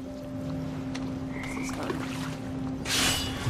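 Toads croak faintly in a damp, echoing space in the video game What Remains of Edith Finch, a few low calls over a steady hum, with a splashy burst near the end.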